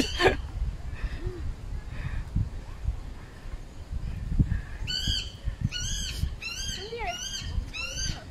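Repeated harsh, rising bird calls in quick bursts, loud and fairly close, over a background of low rumbling noise.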